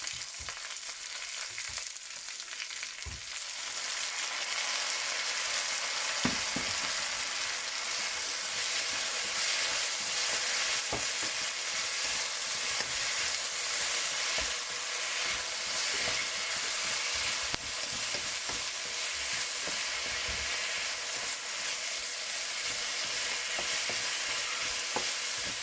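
Flat green beans with cumin stir-fry in a hot wok, a dense continuous sizzle with occasional scrapes and taps of the spatula, close and steady throughout with no talking.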